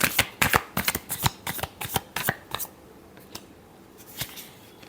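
A deck of cards shuffled by hand, rapid riffling and slapping bursts clustered in the first half, then sparser, softer card snaps; close and clear, no talk.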